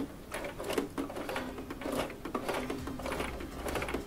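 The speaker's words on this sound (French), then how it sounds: "Au début, je fais toujours à la main pour aider à la machine de commencer la couture." Domestic sewing machine starting a seam on fabric, a steady close mechanical whirring with rapid rhythmic needle clatter running continuously, moderately quiet, with no talking.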